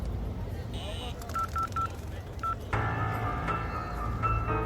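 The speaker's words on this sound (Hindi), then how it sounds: "पता नहीं, अब फोन ही नहीं लग रहा है।" A short series of phone keypad tones, then a steady electronic tone follows, thin and quiet, as on a call that does not go through.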